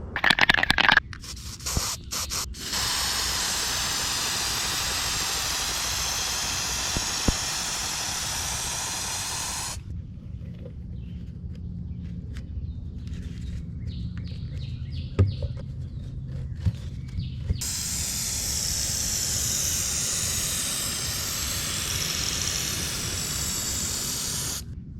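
Aerosol plastic dip coating sprays onto a large format camera film holder in long, steady hissing bursts, close and fairly loud, with a quieter gap in the middle before the spraying resumes.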